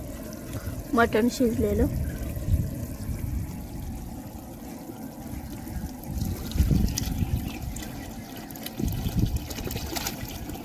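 Yellow water trickles into goat mutton cooking village-style in a pot on a wood-fired clay stove, a soft pouring and dribbling sound running beneath a person's steady talk.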